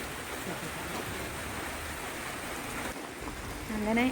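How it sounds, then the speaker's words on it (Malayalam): Heavy rain pours steadily at a temple's elephant shelter in Kerala, a dense continuous hiss close by with no break, a faint voice rising briefly near the end. "ഇതാ ഇപ്പം നന്നായിട്ട് പെയ്യുന്നുണ്ട്"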